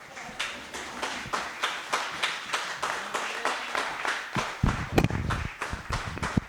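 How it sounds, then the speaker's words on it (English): A comedy club audience claps for a stand-up comedian in a steady, rhythmic beat, with a burst of louder clapping and cheering near the end; close and moderately loud. "So please give a huge hand for Mr. Jason Melton."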